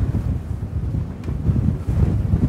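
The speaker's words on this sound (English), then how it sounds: "Big gusts. Coming through now." Strong wind buffets the microphone with a continuous low roar, gusting up and down throughout, loud and close, no voices, outdoors at Shem Creek, South Carolina.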